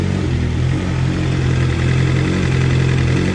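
A 2023 BMW M1000RR Competition motorcycle idles close by with a titanium exhaust, a steady loud rumble that hunts slightly as it warms up, with no talk.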